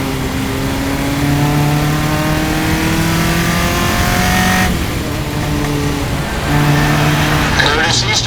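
Formula single-seater race cars, including Formula Continental and Club Formula Continental entries, roar past in a vintage road-racing group, engines holding high steady revs with shifting pitch as cars pass, under continuous commentary.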